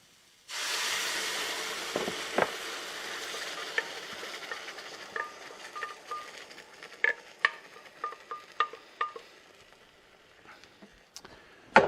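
Blended tomatoes hit a hot frying pan of onions with a sudden loud sizzle and hiss that slowly fades, then sharp scraping clicks of stirring follow.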